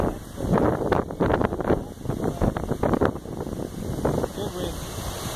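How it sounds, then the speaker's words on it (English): Strong summer storm wind buffets the microphone in heavy, uneven gusts, loud and close, with roaring rumble throughout and brief speech under it. "Just really windy."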